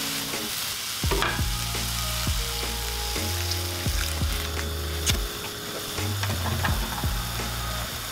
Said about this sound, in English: I'm gonna cook the mince.